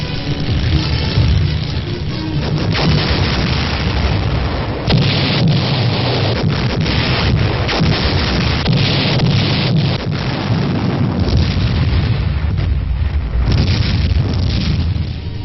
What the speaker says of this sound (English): a forward observer is directing a continual barrage to soften up the enemy's resistance